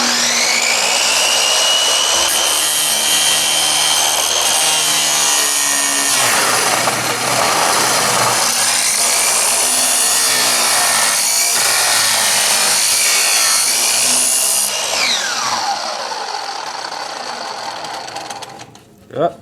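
Power saw cutting through a fake silver bar held in a clamp, a loud, continuous high-pitched grinding whine that goes on for many seconds, then fades and stops near the end.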